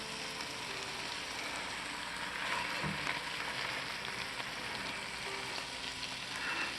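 Salmon fillets frying in a pan until crispy, a steady broadband sizzle and crackle running continuously and fairly close, with no talking.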